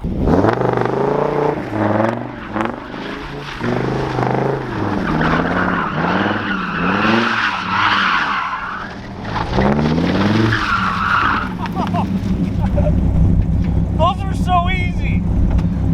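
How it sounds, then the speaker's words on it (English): Dodge Viper doing gentle donuts on worn, nearly bald rear tires, its engine revving in repeated surges with skidding tire noise throughout, loud and close, while a person talks over it. "And I say baby donuts because we cannot burn through the rest of the rear tires."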